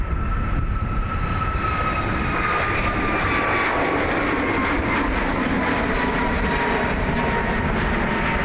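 A Qatar Amiri Airbus A330 at Dublin Airport gives a loud, steady jet roar with a high whining tone sliding slowly downward, continuous and fairly close throughout.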